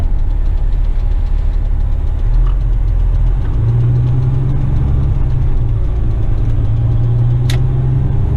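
A Western Star dump truck downshifts while splitting gears on a commercial railway job, its diesel a loud, steady, close low drone whose pitch shifts in steps.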